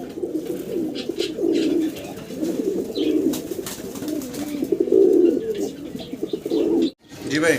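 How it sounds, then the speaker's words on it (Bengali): Huma pigeons, a pair, coo steadily in low, throaty rolling calls, close by and fairly loud, with faint chirps in the background. "এটা একটা হুমা কবুতরের জোড়া"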